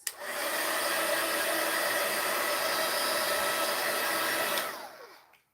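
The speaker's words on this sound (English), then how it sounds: "I'm going to use my heat gun now." A heat gun gives a steady, loud rush of blowing air for about five seconds, then cuts off and winds down quickly. No voices.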